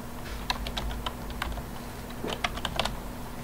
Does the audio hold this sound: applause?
no